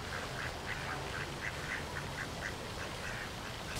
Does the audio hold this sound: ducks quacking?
yes